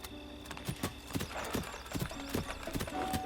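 Horse hooves clip-clop at a steady trotting rhythm in The Legend of Zelda: Breath of the Wild, evenly spaced thuds over game background tones, with a faint hum and no talking.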